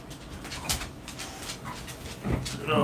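Several dogs whimper and give short yelps in a room, with a few louder bursts standing out over a noisy background and no clear talk.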